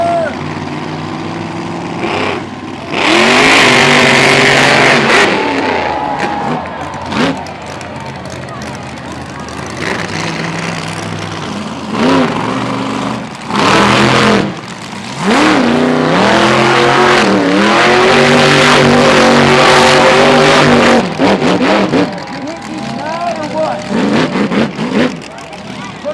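Monster trucks race at a fairground arena, their engines roaring and revving in loud, repeated surges with rising and falling pitch and occasional tire squeal. An announcer's voice and crowd noise carry over the engines between bursts.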